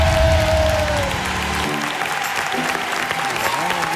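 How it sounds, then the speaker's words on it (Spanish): Studio audience at a Tierra de Talento talent show audition breaks into loud, sustained applause that fills the room, steady and dense for several seconds. "de los mejores aplausos que se han hecho aquí desde que empezó Tierra de Talento"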